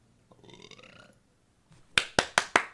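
A short murmur gives way to four sharp, loud burps in quick succession, each a punchy abrupt burst close to the microphone.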